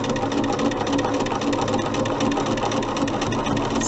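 A sewing machine runs a regular stitch along a mini quilt's binding, giving a steady, close, fast mechanical whirr with no pauses and no talk.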